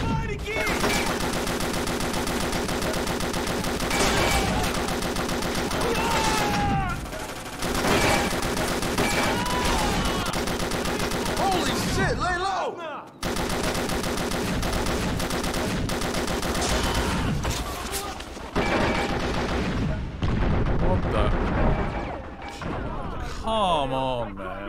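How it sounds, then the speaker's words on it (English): Machine gun fire rattles in long, dense bursts during combat in the 50 Cent: Blood on the Sand video game, loud and close, with crashes and brief pauses between volleys. "Oh, I've got an MG."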